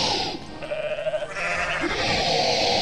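A goat in the video game Goat Simulator gives a drawn-out, wavering bleat lasting about a second, loud and close over busy carnival background noise, with no talking over it.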